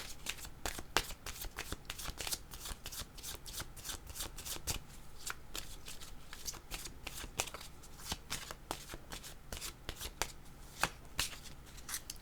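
Tarot cards being shuffled steadily by hand, a fast run of crisp riffling slaps and papery flutters close up, continuing throughout with no talk.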